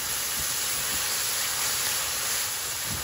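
Onions frying in a pan give a steady, loud hissing sizzle that holds evenly throughout, with no voices over it.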